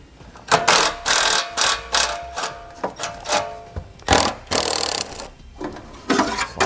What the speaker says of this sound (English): Next, we're going to use a 10mm socket. You're going to have 2 plastic nuts that are holding your heat shield on.